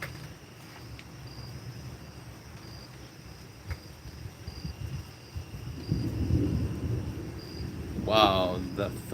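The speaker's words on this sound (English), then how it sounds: "the thunder is awesome." Thunder from a storm outside during an evening live stream of crafting creepy dolls, rising into a broad low rumble in the second half and peaking loud near the end, over steady background noise.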